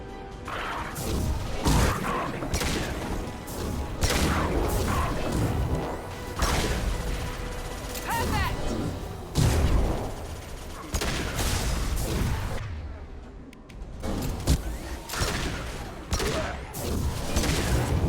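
Cerberus weapons firing in the Mass Effect video game: repeated loud gunshot bursts and crashing impacts in rapid irregular succession, with brief lulls between volleys.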